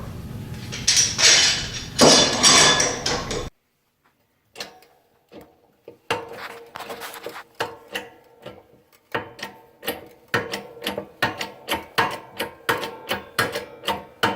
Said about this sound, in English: Bending my copper in my press.